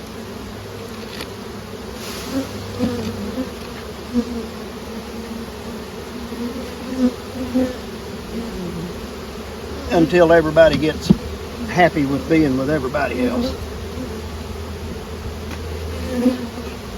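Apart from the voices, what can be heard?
honey bees buzzing on hive frames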